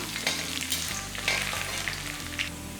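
Curry leaves and garlic sautéing in hot oil for a brinjal kothsu, a steady close crackling sizzle with light stirring scrapes throughout.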